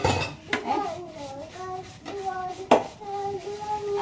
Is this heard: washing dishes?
yes